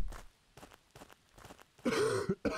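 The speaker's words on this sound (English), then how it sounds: "Stop coughing." A few muffled throat-clearing sounds, then a couple of harsh coughs from a character in the video game Pumping Simulator 2, close and fairly loud against a quiet background.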